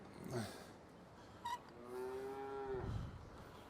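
Cows in a cow shed give a drawn-out moo with a rising then falling tone, preceded by a short snort, moderately near and fairly quiet.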